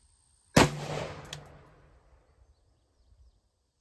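A single sharp, very loud gunshot from a short 11.5-inch-barrel AR-15 firing 55-grain 5.56 ammunition, cracking close by and then trailing off in a long reverberant decay with a faint metallic ring.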